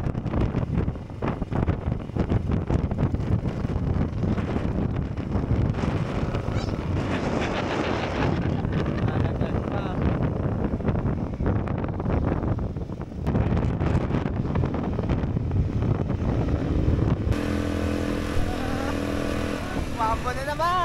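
Strong wind buffets the microphone continuously in Ilocos, a loud rushing roar with gusts swelling and easing, and the character changes in the final seconds as other sound enters.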